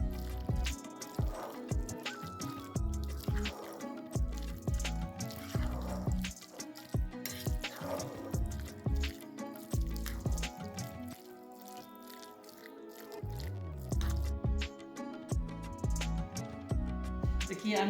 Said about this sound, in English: I've added the mayonnaise and I'm just going to stir it up nicely